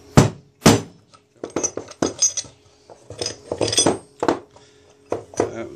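A metal pipe with a bolt inside is pulled back out of a tube while building racing mower spindles, giving a series of close, sharp metallic clanks and clinks in irregular bursts.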